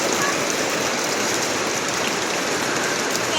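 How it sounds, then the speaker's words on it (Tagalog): Steady rain falls throughout, a dense, even hiss of drops striking surfaces, close and continuous, with no talking. "Umulan na. Kahit pa paano malamig-lamig na."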